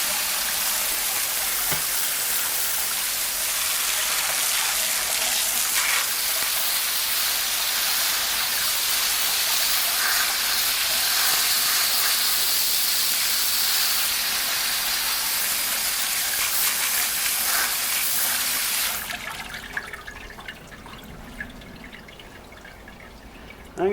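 Running water rinses Singer 337 sewing machine parts over a bucket, a steady broadband gush and splash lasting about nineteen seconds before stopping abruptly into quiet dripping.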